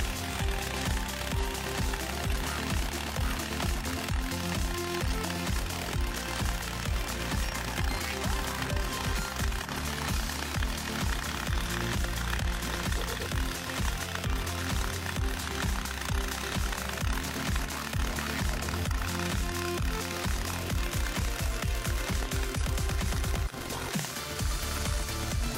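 Horizontal-position arc welding on a multi-pass joint gives a loud, continuous crackling buzz with a pulsing rhythm that holds steady throughout and breaks off just before the end.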